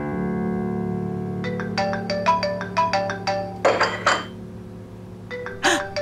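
A mobile phone rings with an incoming call indoors, a bright melodic ringtone of quick repeated chimes over a low steady hum, with a brief voice and a clink breaking in.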